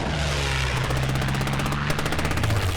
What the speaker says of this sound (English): the column is attacked by British warplanes